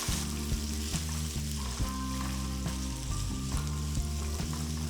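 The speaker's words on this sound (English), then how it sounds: "Saute the onions for about 2 minutes." Thinly sliced onion sautéing in hot oil with cumin seeds and a bay leaf, a soft, continuous sizzle with a low steady hum beneath, faint and even with no voices.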